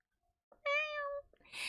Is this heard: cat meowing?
yes